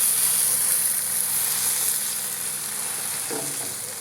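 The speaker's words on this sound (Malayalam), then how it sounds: "ഇനി തിരിച്ചു മറിച്ചിട്ടിട്ട് നമുക്ക് നന്നായിട്ട് വേവിച്ചെടുക്കാം." Eggplant slices frying in a pan, giving a steady, loud, unbroken sizzle that runs the whole time with no talking.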